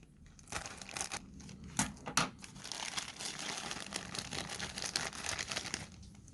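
Plastic packaging from a Jollibee kiddie meal Warner Bros toy being torn open, close, busy crinkling and crackling with a few sharper rips and no speech.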